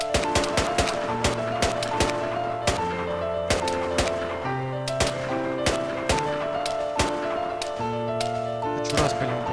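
Gunfire in a survival video game: rapid sharp shots fire in irregular bursts across the whole stretch, layered over steady tonal game music that carries on underneath.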